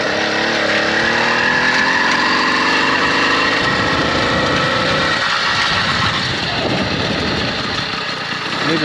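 A small engine on a DIY motorized bike conversion kit runs loud and close while riding, a steady buzzing drone whose pitch wavers slightly, with no speech.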